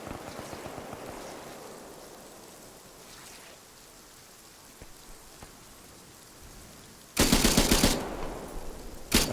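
Dense gunfire in a Vietnam-era mil-sim video game: a low, rain-like rattle of distant shots, then a sudden loud, sustained burst of automatic fire close by near the end.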